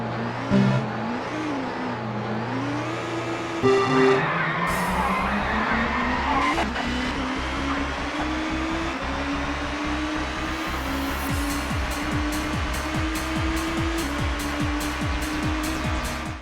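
Touring cars race in the PS1 game Toca Touring Car Championship, engines droning loudly and rising in pitch through the gears, with tire squeal and skidding layered over the pack.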